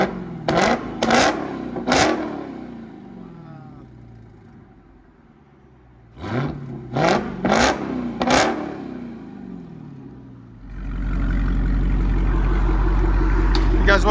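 Dodge Hellcat Redeye with Borla/Corsa exhaust blips its engine in two bursts of three sharp, loud revs, then settles into a heavy, steady rumble. Voices can be heard faintly in between.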